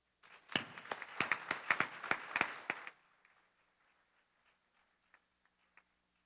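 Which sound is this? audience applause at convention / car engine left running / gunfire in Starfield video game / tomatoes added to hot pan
audience applause at convention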